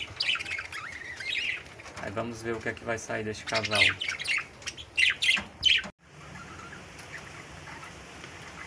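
Clear-wing parakeets squawk and chirp loudly in an aviary with nearly thirty birds, bursts of sharp calls before the noise drops to a quieter chatter; someone speaks over part of it.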